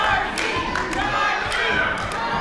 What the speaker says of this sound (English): This crowd getting behind Darcy Dixon.